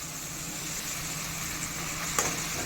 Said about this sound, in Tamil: இப்போ தக்காளி வெங்காயம் நல்லா வதக்கிட்டீங்களா?